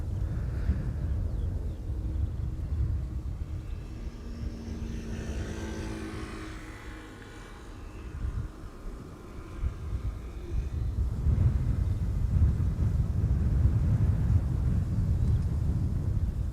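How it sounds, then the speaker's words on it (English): DHL cargo jet taxiing at Schiphol airport, a distant engine roar that swells and fades with rising turbine whine, mixed with wind noise buffeting the microphone. "Banana DHL also on the move, Pete says."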